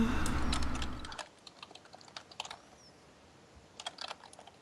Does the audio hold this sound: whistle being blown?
no